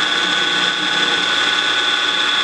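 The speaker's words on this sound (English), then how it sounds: "flip it over, reference it against the stop there, let it cut the other side" A PM-940 CNC mill cutting a part gives a steady, loud, high-pitched machining whine with a constant mechanical drone, continuous and unbroken throughout.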